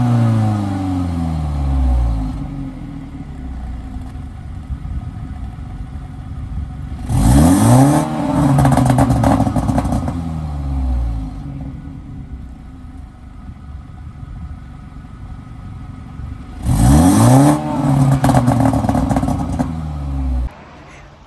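A tuned 2018 BMW 330i with a B48 engine revs hard twice through its exhaust, each burst of roar rising sharply then falling back to a throaty idle between them.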